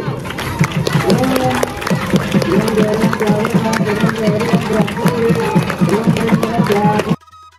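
A crowd claps steadily and rhythmically during a home Sri Rama Navami celebration of the Sita-Rama wedding ceremony. The dense, loud beats sound over chanting voices and end abruptly.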